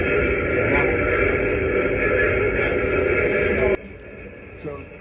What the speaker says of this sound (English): What you're hearing is rock crushing.